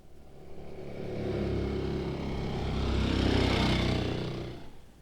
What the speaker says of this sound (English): Here comes a motor scooter.